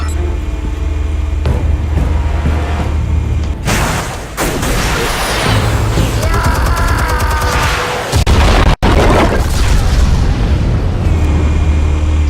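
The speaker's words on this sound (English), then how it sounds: "Explosives armed. Fire when ready." Explosives detonate in Batman: The Telltale Series, with loud booming blasts and rumbling bursts over a dense game soundtrack, ending in a sharp crack followed by a sustained roar.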